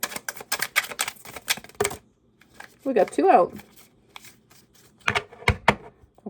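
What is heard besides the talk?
shuffling tarot cards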